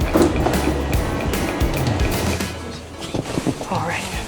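Passenger train bound for Strasbourg, France, a steady low rumble with rattles and clunks that fill the whole stretch, with voices and movement nearby over the rail noise.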